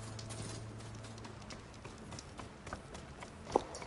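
Horse hooves in the video game Horizon Forbidden West, soft rhythmic clip-clop steps over a low hum, with one sharp louder knock near the end.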